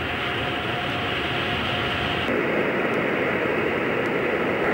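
Freight train running on a rail line beside the Rhine, a steady loud rumble and rushing noise throughout, growing broader and heavier partway through as wagons pass close by.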